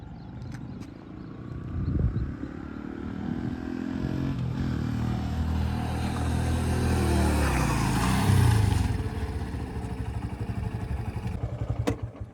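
A Honda SP125 motorcycle rides up, its engine note building steadily as it draws closer, then peaks and drops away sharply as the bike brakes to a stop at close range.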